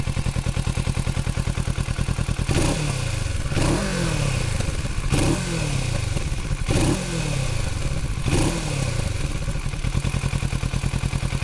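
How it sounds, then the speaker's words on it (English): A Kawasaki Z650 motorcycle idles with a steady rumble, then its 650 cc engine is blipped five times in a row, each rev rising sharply and falling back to idle, close and loud with no talking. "Let's do a rev. We've got to do a rev, don't we?"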